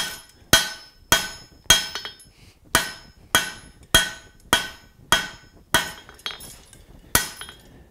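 Hot metal hammered on an anvil while forging a rivet header, the blows landing over the anvil's center: about a dozen sharp, ringing strikes at a steady rhythm, loud and close, with no talk.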